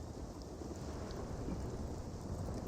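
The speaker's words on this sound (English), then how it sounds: "We're getting fucking rained on." Steady rain and rumbling thunder in a video game, a dense continuous wash of downpour with low thunder rolling underneath throughout, loud and unbroken with no voices.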